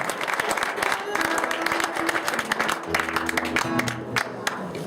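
Lively crowd applause at a live blues-rock concert in a pub venue, steady dense clapping throughout with some low instrument hum and a few voices mixed in beneath.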